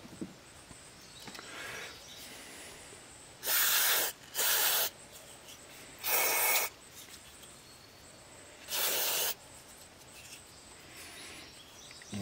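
Gumout carburetor cleaner is sprayed onto old-gas-fouled carburetor parts from a Storm Cat 800-watt generator in four short, sharp hissing bursts, close up against a quiet background.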